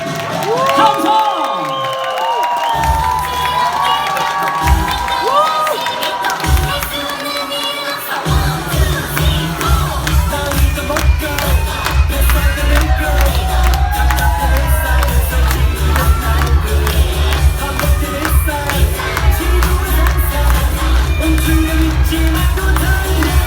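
Parents clapping and cheering for a children's choir, loud crowd noise with shouts and whoops that builds into sustained applause after a voice speaks over a microphone.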